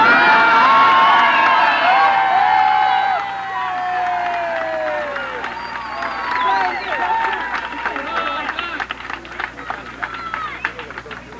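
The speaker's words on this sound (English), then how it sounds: "If you're going to cheer, do it in English" A large crowd at a 1978 election night event cheers and shouts loudly, the roar slowly thinning into scattered whoops and clapping, with voices in the mix.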